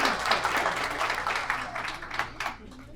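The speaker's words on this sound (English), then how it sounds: "Yeah, that deserves a round of applause." Brief round of audience applause at a virtual event, a moderate crowd clapping steadily for a few seconds before thinning out, with voices underneath.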